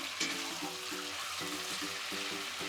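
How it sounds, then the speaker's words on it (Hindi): Chicken pieces and minced meat frying over a high flame, a steady soft sizzle with faint rhythmic scraping of stirring underneath, close and even throughout. "और जब भी आप मीट डालें उसे हमेशा हाई फ्लेम पे बनाएं"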